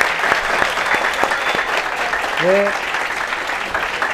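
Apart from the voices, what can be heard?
audience applause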